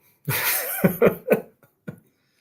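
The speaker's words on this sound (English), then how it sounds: "I am sorry about the cough" A person coughs in a short cluster of harsh, breathy bursts, then one final cough after a brief pause, close and fairly loud.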